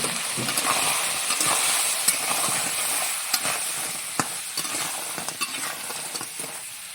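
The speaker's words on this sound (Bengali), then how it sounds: "তেলটা গরম হয়েছে, মাছগুলোকে দিয়ে দেবো। লবণ, হলুদ দিয়ে সুন্দর করে ভেজে নেব।" Crab and fish frying in hot oil seasoned with salt and turmeric give a continuous soft sizzle broken by scattered sharp pops and crackles, with no voices.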